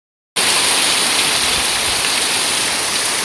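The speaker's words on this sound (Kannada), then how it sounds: "ನೋಡಿ, ಎಷ್ಟು ಜೋರು ಮಳೆ ಬರ್ತಾ ಉಂಟು." Heavy rain pours down steadily in a dense, loud hiss that starts abruptly after a moment of silence and stays constant, with no voices.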